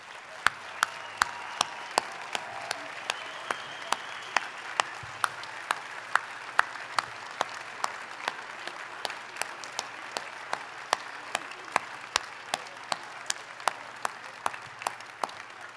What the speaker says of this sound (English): I'd like to have all the veterans in the room, if you can, stand and be recognized with a great round of applause.